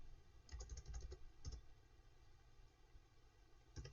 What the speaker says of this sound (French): Je tape des mots.